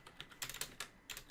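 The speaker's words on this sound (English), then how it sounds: "I can type good." Quick keystrokes on a computer keyboard come in short clustered bursts of clicks, faint but close, with brief gaps between groups.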